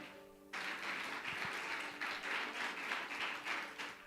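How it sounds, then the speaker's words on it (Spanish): A crowd breaks into sustained applause at a church service, many hands clapping steadily and loudly in a large room, continuing throughout. "Vamos a darle un aplauso al Señor"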